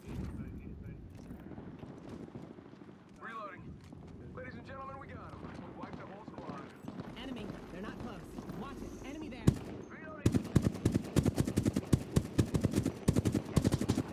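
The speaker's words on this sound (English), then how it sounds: "I hear shooting." Gunfire during an Apex Legends match: scattered distant shots at first, then a rapid string of close, sharp automatic bursts near the end, with players talking over the earlier part.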